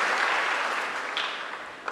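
An Easter Mass congregation gives a brief burst of dense, steady applause that fades slightly over two seconds.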